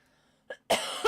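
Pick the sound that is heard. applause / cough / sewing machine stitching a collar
cough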